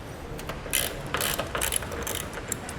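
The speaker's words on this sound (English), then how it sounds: "For these bolts, you'll want to use a 40 or a T40 Torx bit." Ratchet fitted with a T40 Torx bit turning bracket bolts on a 2014 Jeep Wrangler Unlimited, a series of close, quick metallic clicks in short bursts.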